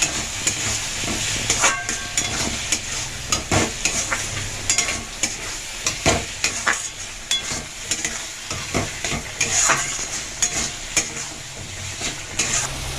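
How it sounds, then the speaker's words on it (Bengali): Prawns fry in spice masala in a pan for a pointed gourd and prawn curry, with a continuous loud sizzle and frequent scraping, clattering stirs close by. "এই চিংড়ি মাছগুলো দিয়ে দেব দিয়ে ভেজে নেব আবার ভালোভাবে"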